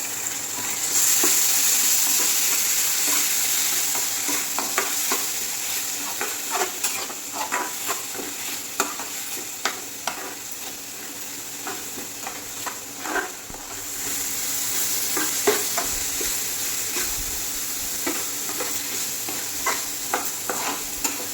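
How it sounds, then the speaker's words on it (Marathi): A paste of tomato, onion and roasted coconut masala cooking in oil for a soya chunks curry, stirred steadily: continuous close sizzle and hiss broken by frequent scraping stir strokes throughout. "टोमॅटोची पेस्ट, कांदा, खोबरा भाजलेला सगळा वाटण असा व्यवस्थित शिजवून घ्यायचा तेलावर"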